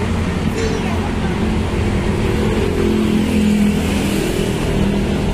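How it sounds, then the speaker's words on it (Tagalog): Steady, loud rumble of passing cars and engines close by, a continuous roadside drone with no pauses. "maingay ang sasakyan."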